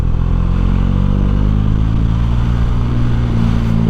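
Bajaj Dominar motorcycle engine droning steadily and loud while riding through mountain hairpin bends in Nepal, a dense continuous rumble with no voices.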